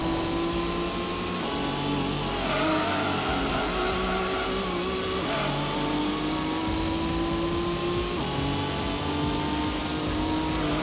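A Toyota Supra engine in Gran Turismo revs and climbs through the gears, with pitch rising and dropping at each shift, loud and continuous with light tire noise underneath.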